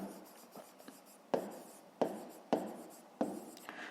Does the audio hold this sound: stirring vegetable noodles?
no